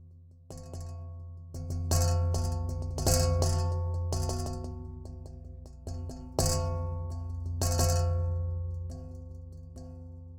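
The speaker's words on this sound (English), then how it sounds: "the marimba mallets, sound like this." Soft mallets strike a metal wok in rolling, overlapping strokes, producing warm, sustained metallic ringing with gentle swells, close and moderately loud.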